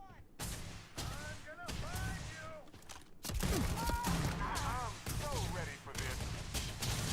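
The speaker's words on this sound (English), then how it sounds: "Couple grenades, dang." Grenade blasts and heavy gunfire from the video game Starfield crash in dense, loud bursts, layered with tonal chirps and whistling game effects, with a sharp, louder eruption partway through and no spoken voice.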